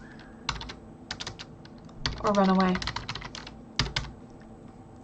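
Someone types on a computer keyboard, with scattered close key clicks and short bursts of typing throughout, while a person briefly speaks partway through.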